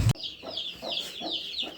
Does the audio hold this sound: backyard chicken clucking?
yes